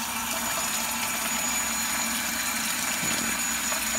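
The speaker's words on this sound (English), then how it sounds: "Fuel pumping black stuff." An Aeromotive electric fuel pump for a GTO runs on the bench, pumping fuel with a steady continuous whine and hum that holds level throughout, close and moderately loud, with no speech.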